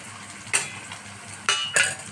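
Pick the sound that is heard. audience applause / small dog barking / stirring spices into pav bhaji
stirring spices into pav bhaji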